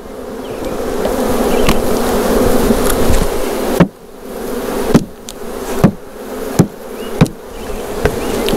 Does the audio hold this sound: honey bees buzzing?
yes